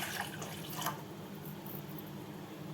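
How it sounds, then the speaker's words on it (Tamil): Tamarind water pours into a cooking pot, a soft liquid splash and trickle most audible at the start, then fading to a quiet, steady wash. "இதுக்கு நான் முதல்ல இந்த புளிக்கரைசலை ஊற்றிடுறேன்"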